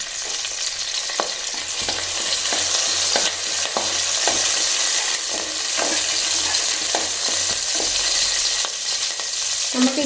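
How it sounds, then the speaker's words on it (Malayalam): Curry leaves sizzle and crackle steadily in hot coconut oil for Kerala-style avial, a loud continuous frying hiss broken by soft stirring scrapes, with no voice over it. "എണ്ണ ചൂടായിട്ടുണ്ട്. ഇതിലേക്ക് ഞാൻ കറിവേപ്പില ചേർത്ത് കൊടുക്കുന്നു."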